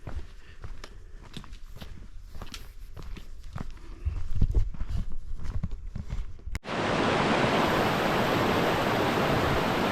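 Footsteps crunch along a wide forest trail on Cascade Mountain, then a small mountain creek takes over with a loud, steady rush of close flowing water for the last few seconds.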